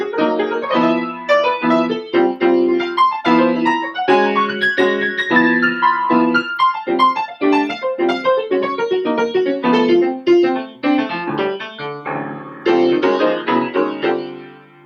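Solo jazz piano plays chord voicings in a steady rhythmic comping pattern, the harmony shifting upward by a half step before resolving.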